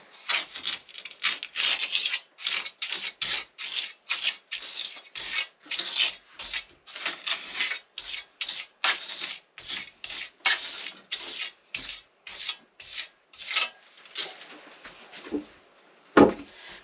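Trowel spreading clay plaster on a wall, a rapid series of short scraping, rasping strokes in an even rhythm, close and fairly loud, with a pause and a sharper knock near the end.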